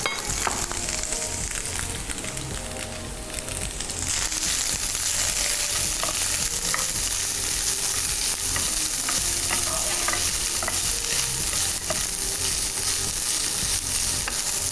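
Chicken frying in a pan, a dense, steady sizzle that swells after a few seconds, with repeated stirring scrapes and occasional utensil taps, close up and without speech.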